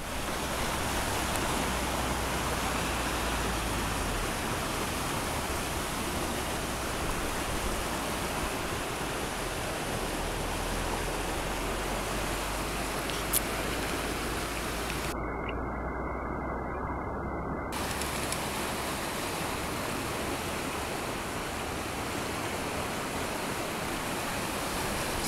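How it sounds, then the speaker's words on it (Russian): Steady rushing roar of spring floodwater filling a ravine that has swollen almost into a river, with ice still drifting; a constant, loud, broadband wash with no pauses. "Это всего был овраг, а сейчас уже почти река."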